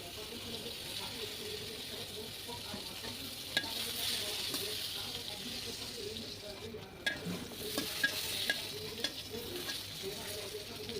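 Pointed gourd (potol) frying in oil in a pan, a constant sizzling hiss with occasional sharp clinks and scrapes of a spatula, close up, with faint speech in the background.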